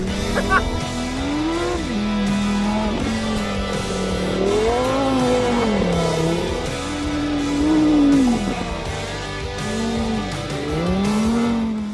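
A Lamborghini Huracán Sterrato V10 off-road supercar drives on a desert track, its loud, close engine note rising and falling through repeated revs and gear changes.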